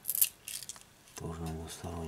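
A phone frame held on with double-sided tape is pried and peeled off a Sony Xperia Z1 Compact D5503, with short scratchy scraping up close, then a voice talking over it.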